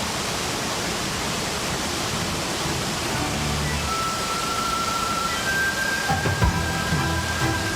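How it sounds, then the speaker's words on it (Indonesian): Tiered waterfall in a forest in Dayak country, Kalimantan, pouring as a steady, dense broadband roar throughout, with faint thin tones and a few soft knocks near the end and no talk. "sekarang kami berada di lokasi air terjun yang bertingkat 37 tingkat"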